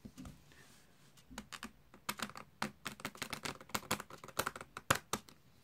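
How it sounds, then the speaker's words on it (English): A pack of playing cards is shuffled close by, producing quick bursts of crisp, papery clicks that grow denser and louder toward the end in a quiet room. "take this last pack and we'll shuffle this into there"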